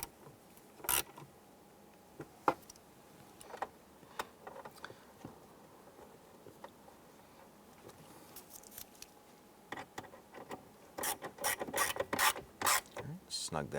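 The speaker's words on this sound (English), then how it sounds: "I'm just going to go ahead and snug those down a little bit with the ratchet." Hand ratchet snugging down screws on a Ford Explorer dashboard, quiet irregular clicks and rubbing scrapes scattered throughout, with a denser cluster of ratcheting clicks near the end.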